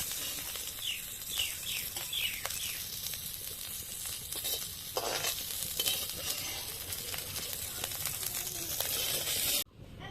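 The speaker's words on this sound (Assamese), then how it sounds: "মাছটো ধুনীয়াকৈ ফ্ৰাই হৈ গ'ল আৰু এতিয়া এনেকৈ তুলি দিছোঁ" Bombay duck fish sizzles steadily in hot oil, a close, continuous frying hiss with small crackles and scraping as the pieces are lifted out, cutting off abruptly at the end.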